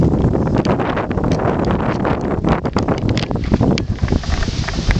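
Strong wind roars steadily across an outdoor microphone for five seconds, loud and gusty with buffeting bursts throughout, at a spot where someone had planned a flight.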